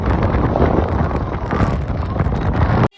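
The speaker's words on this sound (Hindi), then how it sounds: "हवा कितनी तेज चल रही है ना, पूरा रास्ता हो गया ऐसी हवा चलते चलते।" Strong wind roars and buffets the microphone outdoors during travel along a road, a loud, continuous rumbling rush that cuts off abruptly at the end.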